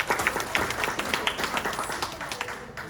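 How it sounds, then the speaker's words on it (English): Small audience applause at a presentation on dealing with difficult people, a scattered patter of individual hand claps, fairly close and moderately loud, rising and fading over a few seconds with no talking. "Let's give her an applause"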